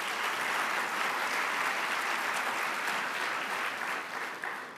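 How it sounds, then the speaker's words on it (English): Audience applause at a school award ceremony, a sustained, even wash of many hands clapping at moderate loudness, tapering slightly at the end. "So I want to give you a round of applause."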